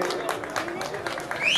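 Audience applause for Ram Lila actors at a Chamba Day performance, a sustained broadband patter of many hands clapping at moderate distance, with crowd noise mixed in throughout.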